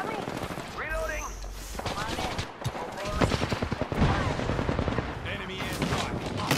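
Enemy gunfire in the video game Apex Legends, bursts of rapid shots crackling close by in a fast rhythm while a voice talks over the fighting.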